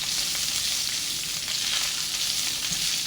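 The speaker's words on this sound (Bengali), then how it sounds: "এটাকে তেলের মধ্যে ভেজে নিতে হবে।" Ingredients for orange masala chicken fry in oil over medium heat, giving a loud, steady, dense sizzle that holds unbroken throughout with no talking.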